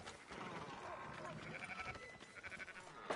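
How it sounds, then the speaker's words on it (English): Sheep bleat in Red Dead Redemption 2, several wavering calls from a flock sitting amid busy game ambience and background chatter, mid-distance and fairly quiet. "Fine sheep."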